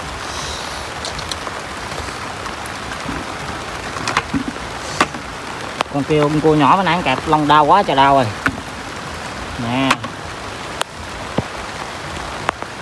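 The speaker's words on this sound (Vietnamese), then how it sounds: "Mưa càng lớn rồi cả nhà ơi" Heavy rain pours steadily over rice paddies where field crabs crawl onto the banks, a constant hiss running under close, excited talk.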